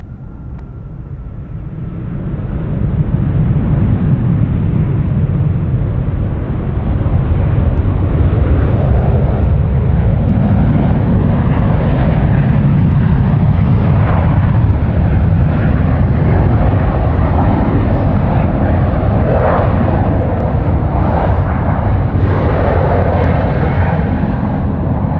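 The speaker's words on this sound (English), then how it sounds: "We've the Qantas 64 service in from Johannesburg. Just touched down. Runway 34 left." A Qantas airliner arriving from Johannesburg touches down on runway 34 left at Sydney Airport: a loud, steady roar of jet engines and rolling rumble swells in and holds for the whole stretch, with no voices.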